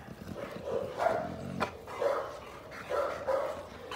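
A large dog barks in several separate bursts at close range, the barks spaced irregularly with short gaps between them.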